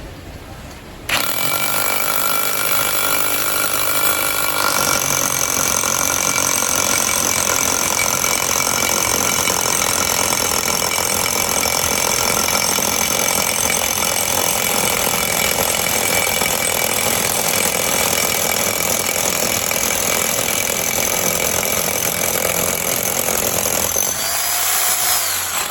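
A power drill bores holes into a wall during house building in Las Terrenas, a loud steady whine sustained for over twenty seconds after a brief start, stopping near the end.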